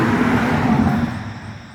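A car passes close on the road, a loud rumbling whoosh that fades quickly as it moves away, with no talking.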